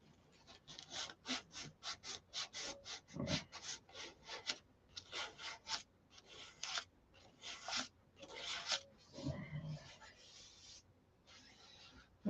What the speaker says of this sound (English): Just sand and prime and sand until it's perfect.